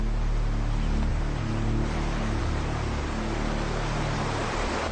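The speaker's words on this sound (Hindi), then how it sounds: "इस बहते पानी को देख रहे हैं राजा?" Steady broadband rush of flowing river water, continuous and even throughout with a low rumble beneath, no voices.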